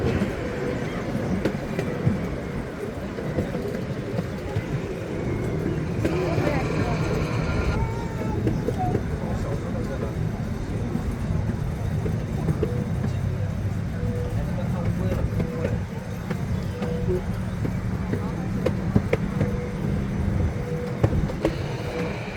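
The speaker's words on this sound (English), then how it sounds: "The train you're riding on is being pulled by a miniature replica of an 1863 CP Huntington steam engine." A miniature replica of an 1863 CP Huntington steam engine pulls a safari ride train steadily along its rails, a continuous close rumble with rattling clatter that stays even from start to finish.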